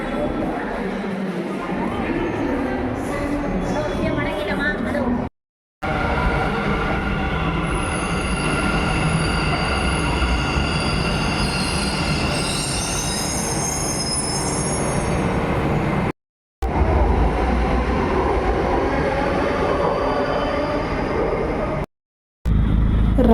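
A Bengaluru metro train at Banashankari station rumbles and rolls along the rails, with high wheel squeal in the middle and a steady heavy drone broken by short gaps, while people speak at points.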